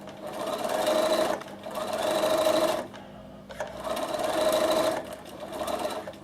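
A sewing machine stitches fabric for a Flying Geese quilt block in three close, rapid bursts of steady mechanical whirring, split by short pauses.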